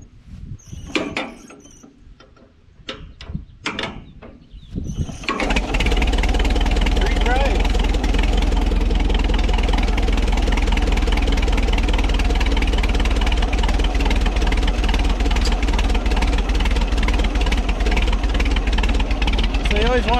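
Allis tractor engine catching after a hand-crank start: a few clanks and brief voice sounds, then the engine fires and runs steadily, loud and close, with an even, throbbing idle to the end.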